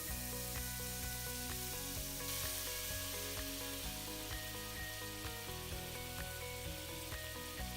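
Oat and banana pancake batter fries in margarine in a pan, a soft, steady sizzle that carries on close by for several seconds, with no talking.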